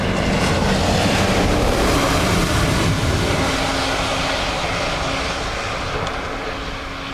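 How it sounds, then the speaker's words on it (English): An Aegean airliner from Athens lands at Dublin Airport on a wet day, heard as a loud, continuous broadband engine roar and rush that slowly eases off, with no talk over it. "Very smooth landing for Aegean, is it? Says Aegean in from Athens."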